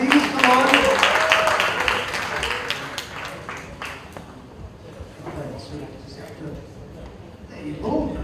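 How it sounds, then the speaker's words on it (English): An audience at a book launch applauds, with a dense burst of clapping at the start that thins and fades over several seconds, mixed with voices talking. "Can we give them a round of applause, please?"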